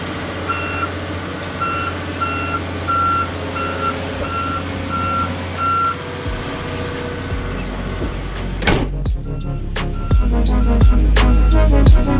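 A dump truck hauling dirt on a pond build site sounds its reversing alarm, a steady series of evenly spaced beeps over a low diesel rumble, followed by clanks and heavier engine noise as the truck works nearby.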